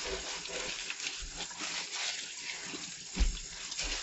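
Running tap water splashes steadily while fruits and vegetables are scrubbed under it, a close, continuous wash with a few louder splashy bursts and no talking.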